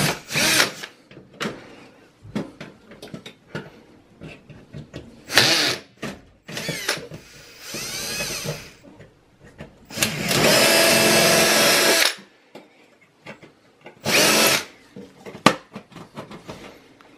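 A power drill whirs in repeated bursts into a Dell computer case, some short and one long sustained run, with clicks and clunks of handling between them and no talk.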